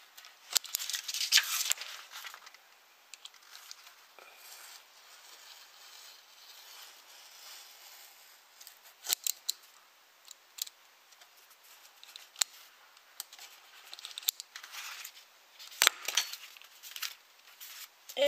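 Scissors cut through paper sheets in scattered bursts of crisp snipping and rustling, faint and close, with quiet pauses between cuts and no talk.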